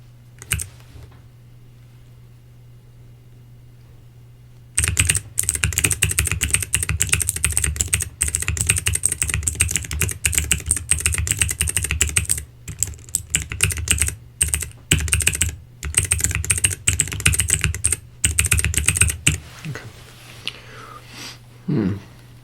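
Close, crisp typing on a computer keyboard in an ASMR cranial nerve examination roleplay, starting after a few quiet seconds and running in rapid bursts with short pauses before stopping near the end.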